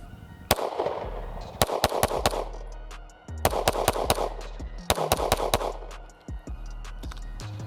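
Staccato CS pistol firing at an outdoor range: about a dozen sharp, loud gunshots in quick irregular bursts with short pauses between strings, each crack followed by a brief echo.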